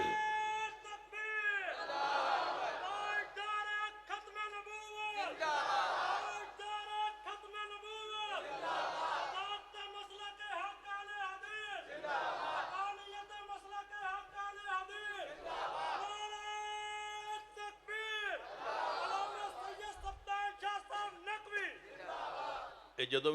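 At a religious sermon gathering, a large crowd shouts slogans in unison. The loud, rhythmic bursts of many voices repeat every few seconds, with brief pauses between the chants.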